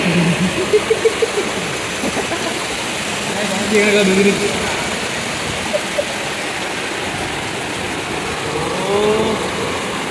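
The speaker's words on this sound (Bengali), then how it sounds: "ঠিক রাস্তার উপর দিয়ে ঠিক সেই একইভাবে জল কিন্তু বয়ে যাচ্ছে, এই সবই জল যাচ্ছে কিন্তু পোখরা লেকে" Rainwater running over a road in Pokhara, Nepal, a broad steady rushing wash under a voice speaking, with faint traffic passing in the background.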